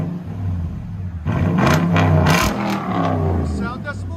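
A Toyota Tundra fitted with a Carven exhaust revs hard, its low engine rumble swelling into a loud, close roar that holds before easing back, with a voice speaking over part of it.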